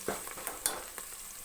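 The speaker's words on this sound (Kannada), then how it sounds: "ಒಗ್ಗರಣೆ ಇವಾಗ ಚೆನ್ನಾಗಿ ಫ್ರೈ ಆಗಿದೆ" Mutton sambar tempering sizzles in hot oil while it is stirred, with a soft frying hiss broken by four or five sharp scraping strokes from a spoon against the pan, close and fairly quiet.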